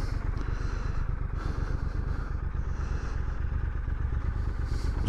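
A 2023 Triumph Scrambler 1200XE Chrome motorcycle underway, its engine giving a steady, loud rumble mixed with wind rush and road clatter throughout, with no voices.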